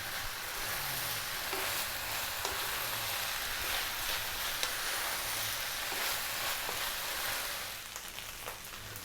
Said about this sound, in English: That's your rice frying, that's where you want it.